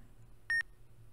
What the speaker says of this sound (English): That low-pitched beep was a fail